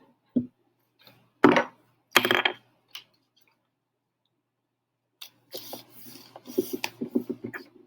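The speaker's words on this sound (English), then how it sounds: "go ahead and glue the whole back side down" Glued paper is rubbed and pressed flat on a tabletop, giving short scratchy swipes in separate bursts and then a run of quick rubbing strokes, close and fairly quiet. No one speaks.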